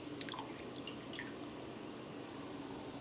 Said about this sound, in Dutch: Dan doe ik ze even in water om het losse zetmeel eraf te spoelen.